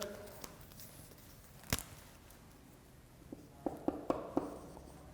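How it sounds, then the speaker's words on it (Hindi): Writing on a classroom board during a lecture: a single sharp tap, then a cluster of short, faint strokes and taps against a quiet room. "मैं लिख देता हूँ इधर"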